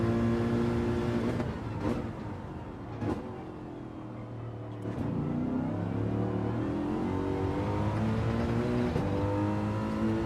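A GR.3 race car engine in Gran Turismo 7 drives a lap, its loud, steady roar climbing in pitch and dropping sharply at several quick gear shifts, heard up close with nothing else over it.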